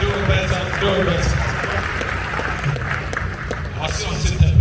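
Audience clapping in a room, a busy, uneven patter of hands running under a loud voice that talks over it almost the whole time.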